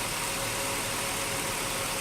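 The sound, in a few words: 2003 Ford Taurus engine idling after cold start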